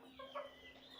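Backyard chickens clucking close by in a short, soft burst of a few calls over a quiet hum.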